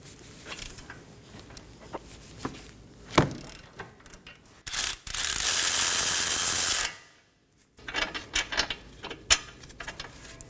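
A ratchet works loose the 22mm caliper bracket bolts on a 2015-2023 Nissan Maxima front brake, giving scattered clicks and knocks, then a sustained loud hissing rasp for about two seconds, followed by more clicking.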